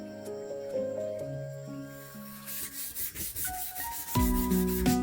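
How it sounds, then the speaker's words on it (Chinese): A very dirty table is scrubbed clean in a rural home, a burst of rapid, rhythmic rubbing strokes at close range that follows a stretch of voices. "我搬这个桌子出来清洗了"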